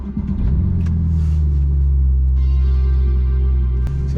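Porsche 911 Turbo 991.1 engine starting, with a brief starter whir that flares into a loud, deep rumble and settles into a steady, close idle, alone.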